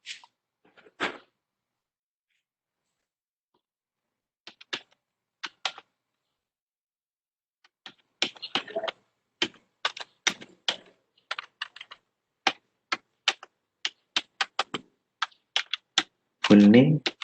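Code is typed on a computer keyboard in bursts of crisp key clicks, sparse at first and then faster and denser, close to the microphone with pauses between runs.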